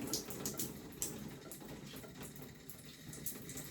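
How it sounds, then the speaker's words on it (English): Water drips and trickles steadily as wet, shampooed hair is gently wrung out in the shower, a faint splashing patter with small irregular drops. "I'm gonna just gently wring out my hair"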